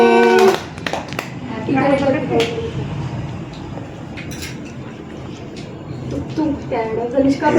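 Family members clapping hands together at a birthday celebration, scattered claps mixed with children's and adults' chatter, several sharp bursts near the start and end.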